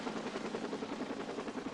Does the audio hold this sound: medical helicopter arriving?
yes